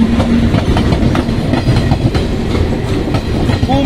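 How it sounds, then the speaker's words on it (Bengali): Kumbh Express special train arriving at a station near Prayagraj, a loud, close continuous rumble of rolling cars with clickety-clack wheel rhythm throughout. "আর একটা ট্রেন এসে গেল।"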